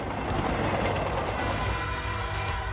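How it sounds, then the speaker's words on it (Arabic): A train rumbles steadily along the track, a dense low roar with a continuous rolling clatter and no voices. "لدينا قطار سيسير على السكة ويدور حول المنعطف"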